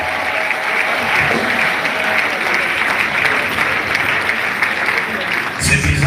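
A hall crowd applauds in tribute to the late Charles Lessie, sustained loud clapping filling the room throughout, with voices mixed into the ovation and a brief louder burst near the end.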